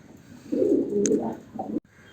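Racing homer pigeons in a loft coo close by in a couple of soft throaty phrases, with a brief sharp chirp over them and a light background hum.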